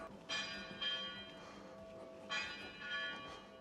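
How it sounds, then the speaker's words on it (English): Church bells ringing at six minutes past eleven in Gran Canaria, near Tejeda, heard as a few distinct resonant strikes with long ringing decay, moderately distant and fairly faint, with no talk over them. "Oh, there go the bells."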